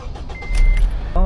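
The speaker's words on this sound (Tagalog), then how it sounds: "Yung bus na yun, dumaan dito." A road vehicle rumbles close by with a low engine drone, and a brief tonal whine sits over it, as a tour bus passes near a shut-down state line casino.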